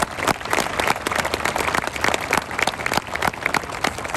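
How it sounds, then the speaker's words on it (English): An audience at a US Marine graduation ceremony in San Diego claps loudly and steadily, a dense, close crowd of hands with sharp individual claps standing out, running without pause. "Round of applause."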